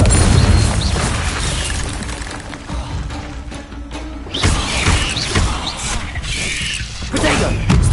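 A heavy blasting-spell explosion from Hogwarts Legacy, a dense rumbling boom with crashing debris that rises and falls over several seconds, loud and close with game action throughout.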